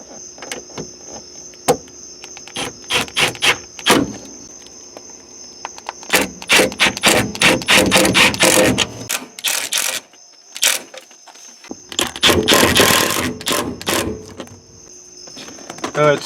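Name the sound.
driving self-tapping screws in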